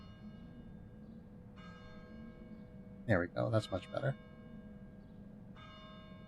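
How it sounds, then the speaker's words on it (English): A bell tower bell in the Getting Over It video game rings with a sustained, fading metallic tone through most of the stretch, with a brief burst of talk partway through. "that's where the bell tower bell sound is coming from."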